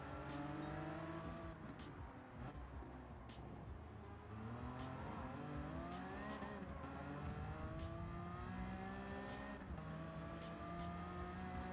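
Race cars from a racing video game, among them a Nissan GT-R, a BMW M6 and a Mazda RX-Vision, roar loudly and continuously, with engine notes sweeping up and down through gear shifts and brief tire squeals.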